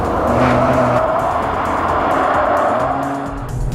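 A car in dynamic mode takes a right-hand corner at 100 mph. Its engine roars loud and close throughout, with faint tire squeal and a slight dip in loudness near the end.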